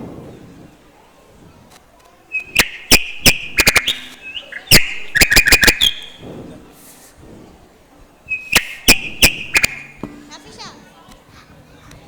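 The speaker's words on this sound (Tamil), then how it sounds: "அதோ நான் பறவைகளை பார்த்து விட்டேன்" Birds chirp in two bright bursts of rapid, sharp tweets and whistles in a children's story, fairly close and loud, with quieter stretches between.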